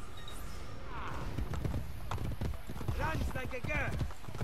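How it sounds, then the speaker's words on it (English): Steady clip-clop of horse hooves trots along in Assassin's Creed Brotherhood, with a brief whinny and a voice talking over it. "he has the slowest horse I've ever seen."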